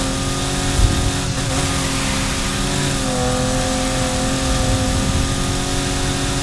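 A Mitsubishi engine drones and revs steadily in the NFS Heat racing game. The loud, continuous mid-range hum keeps a sustained tone, rises only a little, and has no talk over it.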